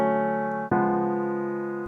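A sustained keyboard chord holds, then shifts abruptly to a tenser voicing with one note raised a semitone, the new chord ringing on and slowly fading, with no voices.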